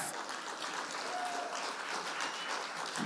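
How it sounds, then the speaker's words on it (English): A round of applause from an audience for teachers at a talk, dense even clapping filling the room from start to finish. "can we give them a round of applause?"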